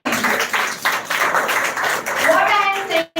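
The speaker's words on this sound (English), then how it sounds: "Once again, clap for him." An audience at a women's education grand finale event claps in steady bursts, a dense close patter filling the hall with brief dips, and a voice begins speaking over the tail end.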